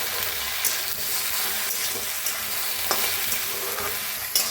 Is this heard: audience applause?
no